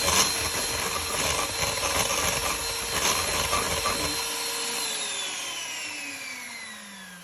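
An electric whisk whips double cream for choux buns, a steady buzzing whirr with rattling beater noise that runs for about four seconds, then cuts out and winds down into a fading hum.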